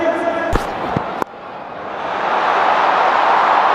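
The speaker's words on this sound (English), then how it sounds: "A lot of noise today in this crowd." Crowd noise at an IPL cricket stadium: a broad, steady roar that swells over a few seconds, with a couple of sharp knocks near the start and a commentator's voice over it.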